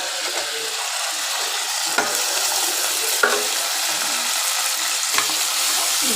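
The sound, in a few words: ginger garlic shallot paste frying and being stirred in a pan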